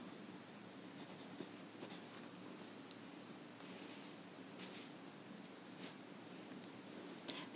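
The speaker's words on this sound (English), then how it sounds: "So let me write this" A pen or marker writes by hand during a geometry lesson, giving faint, soft scratching strokes with occasional light taps, quiet and close, with no talking.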